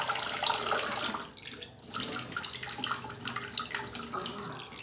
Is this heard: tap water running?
yes